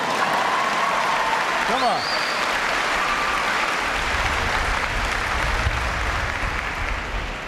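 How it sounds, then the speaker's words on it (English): A large crowd claps and cheers for Spanish sailors at a presidential speech, loud continuous applause with whoops and a brief shout in the middle. "Yeah, we can clap."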